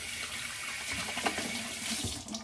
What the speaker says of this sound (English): So I'm gonna splash a little near hot water